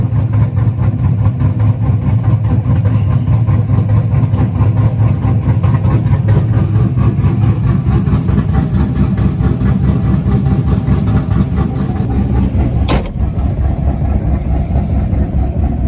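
Chevrolet Camaro drag car prepared for burnout competition, its engine idling with a steady, loud low rumble that holds nearly unchanged, then a brief sharp click near the end.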